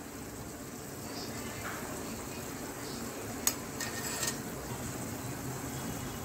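Rasgullas being turned over in a pot of boiling sugar syrup, a steady bubbling simmer with a few soft spoon knocks against the pot, close and continuous.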